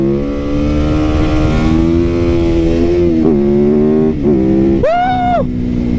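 A motorcycle ridden over grass revs loudly and close, its engine tone holding steady, dipping briefly, then climbing in a sharp high rev near the end before dropping back.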